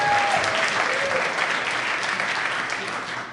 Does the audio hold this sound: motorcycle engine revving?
no